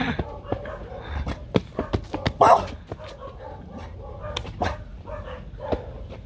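Rottweiler puppy growling and yipping during rough play, with short sharp barks, whimpers and low grumbles in uneven bursts, close by, while someone talks over it.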